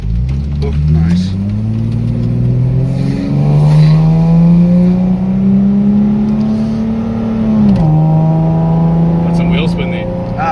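A 1995 Ford Mustang SN95 fitted with a cold air intake revs hard and accelerates with wheel spin, its loud engine note climbing steadily, dipping briefly at a shift, then rising again, while people talk over it.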